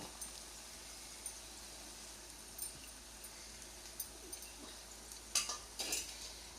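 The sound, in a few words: raw mango pieces added to fried onions in pan, stirred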